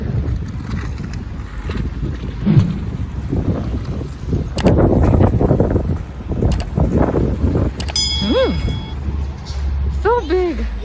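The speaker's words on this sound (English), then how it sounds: "The wind pushed me over." Strong wind on a London street buffets the microphone with continuous low rumbling gusts, loud and close, while people talk over it.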